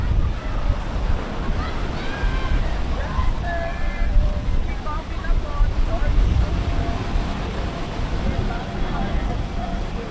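Strong wind buffets the microphone on Boracay's White Beach on a rainy day, a constant loud roar mixed with surf and faint distant voices and music.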